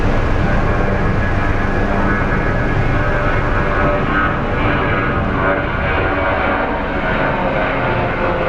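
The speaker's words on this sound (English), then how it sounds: "My goal is to just get the American Airlines 787." American Airlines Boeing 787 airliner at Sky Harbor International Airport, a loud continuous engine roar that holds steady and close with a broadband rumble and no talking.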